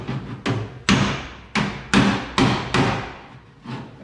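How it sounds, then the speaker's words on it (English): Metal hammer blows struck at a steady pace, about eight ringing knocks on the body panel of a 1966 Ford Mustang, each decaying briefly, close and fairly loud. "I'll take this hammer here with a little bit of round down"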